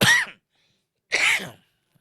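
Two short, harsh coughs separated by a pause of about a second, close and clear with silence around them.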